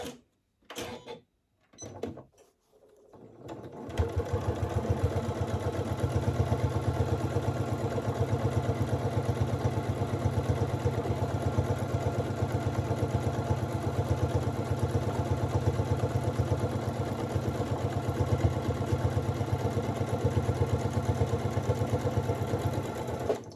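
Electric sewing machine running steadily for about twenty seconds after a few brief taps, top-stitching the edges of a fabric make-up bag; a close, even, motor-driven whir with rapid needle clatter and no talk.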